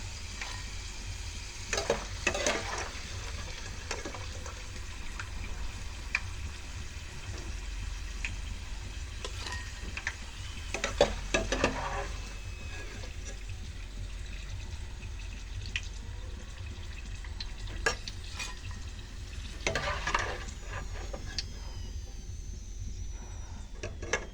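Camote (sweet potato) fries frying in hot oil, a quiet, steady sizzle with occasional louder bursts of bubbling and stirring, no voices.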